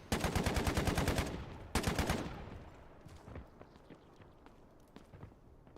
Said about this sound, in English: They sound like they're shooting towards admin